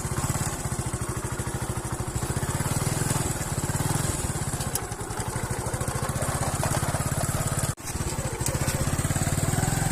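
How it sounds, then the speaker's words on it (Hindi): On a rural village road past vegetable farms, a motorcycle engine runs loud and close with a fast, steady putter. It drops out briefly near the end, then picks back up, with no talking. "बाइक बंद हो गई है, स्टार्ट करते हैं जी।"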